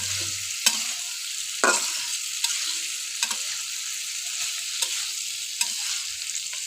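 Potatoes tossed with spices in a frying pan: a bright, steady hiss of frying with regular spatula scrapes and taps roughly every second, close by and without talk.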